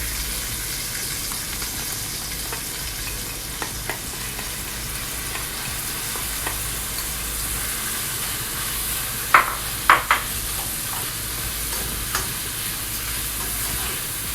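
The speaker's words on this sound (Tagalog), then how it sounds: "Mix evenly until your rice is covered of sauce" Rice is stirred in sauce in a pan for arroz con pollo, a steady frying sizzle throughout with a few soft scrapes and clinks of the utensil against the pan.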